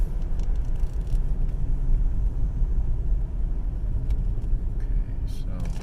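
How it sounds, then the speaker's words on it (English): A Cadillac with a P0008 engine timing fault drives along, giving a steady, close, low road rumble and engine drone that holds evenly throughout. "So I'm still driving."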